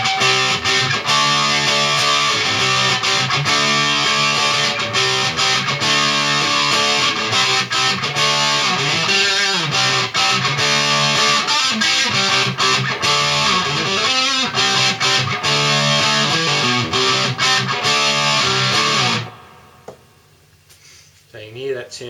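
Electric guitar on its bridge humbucker pickup driven through a hand-made tube distortion pedal, loud, thick sustained distorted chords and riffs for about nineteen seconds before cutting out to near silence.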